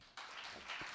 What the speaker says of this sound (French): On applaudit pour Péniel.